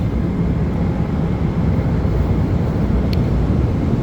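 Steady, loud low-frequency engine drone and rushing air noise fill the cabin of a nearly empty Turkmenistan Airlines Boeing 747 in flight, unbroken and constant throughout with no talk.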